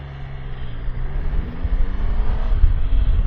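A truck rumbles past a Triumph Tiger Sport 800 motorcycle on the road, its low engine drone rising steadily under continuous wind and road noise, with no talking.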